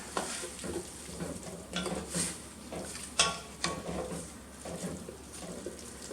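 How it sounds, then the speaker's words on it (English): Dry red wine deglazes a hot pan for chicken cacciatore, sizzling and bubbling as a utensil scrapes and stirs the bottom in repeated strokes, close and clear, with occasional clinks. "Use that to deglaze the bottom of the pan."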